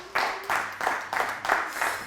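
Lecture audience gives a short burst of applause, several claps grouped into five rhythmic surges at moderate distance, fairly soft overall.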